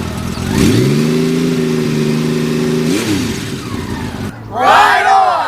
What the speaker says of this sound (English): Balance a nickel on the engine, start her up, and rev her up.